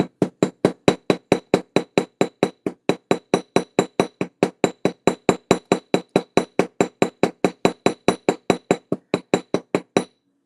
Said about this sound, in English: Alright, I'm going to bring out my hammer again. I'm going to finish this rivet up.